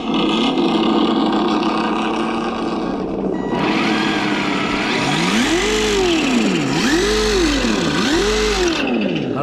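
A 1/10-scale RC Lancia Delta rally car. Background noise gives way to a buzzing engine that starts up, then rises and falls in three rhythmic rev swells, close and loud.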